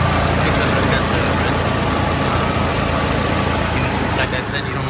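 Loud, steady Toyota Celica GTS 2ZZ engine running close by during a coolant flush, a continuous rumble easing slightly near the end; no clear rising revs.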